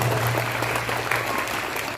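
A school audience claps at a welcome ceremony at a middle school in India, continuous dense clapping for a couple of seconds over a low steady hum.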